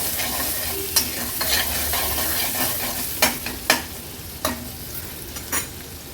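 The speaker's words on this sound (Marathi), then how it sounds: "कांदा व्यवस्थित तेला शिजवून घेऊया" Chopped onion and two green chillies fry in oil in a pan, a steady hiss under scattered scrapes and clicks of a spoon stirring, close and alone with no talk.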